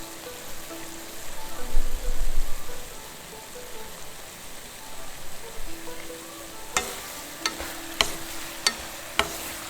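Noodles with soy sauce and vegetable stock sizzle and bubble in a pan while being stirred, a steady frying hiss with a cluster of louder scrapes early and a few sharp utensil taps near the end.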